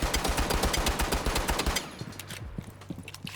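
A handgun firing in Rainbow Six Siege: a rapid run of sharp, evenly spaced shots for under two seconds, then scattered fainter clicks and thuds, close and loud without talk.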